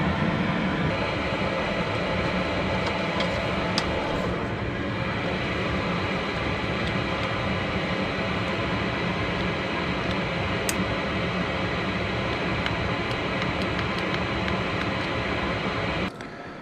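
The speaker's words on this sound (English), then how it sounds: "Diesel heater power. You can't beat it." A portable diesel heater running in a bedroom, giving a steady, loud broadband roar and hum that holds unchanged throughout, with faint clicks on top.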